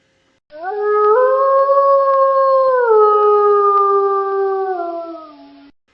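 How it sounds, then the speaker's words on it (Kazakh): A wolf howls in one long sustained call lasting several seconds, rising at the start, holding steady with a clear tonal pitch, then sliding slightly lower before fading out, loud and alone. "қасқыр"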